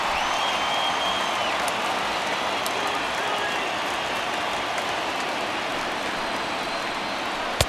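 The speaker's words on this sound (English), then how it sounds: "that nearly sent us home and sent this crowd into hysterics" Stadium crowd in the baseball video game MLB The Show 20, a steady broad roar sustained throughout at a constant level, ending on a brief sharp click.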